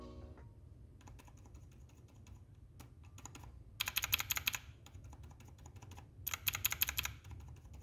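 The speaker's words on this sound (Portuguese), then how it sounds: "Se liga só nessa diferença do barulho do Aku Penguin pro azul padrão." Mechanical keyboard typing, comparing Aku Penguin switches with standard blue switches: a quieter stretch of soft keystrokes, then two bursts of loud, sharp, rapid clicking.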